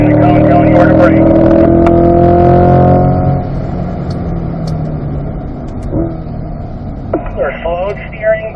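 A C8 Corvette lapping Spring Mountain Raceway, its engine droning loudly with rising harmonic tones under an instructor's talk, then settling into broad road and wind rumble with a few brief mechanical clunks.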